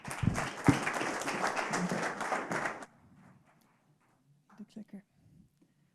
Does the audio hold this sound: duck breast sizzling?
no